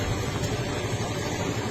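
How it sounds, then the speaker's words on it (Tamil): A vehicle engine idles at a Tamil Nadu police roadside check during Covid, a steady, close, low rumble that runs unbroken with no voices over it. "வண்டி ஆஃப் பண்ணு"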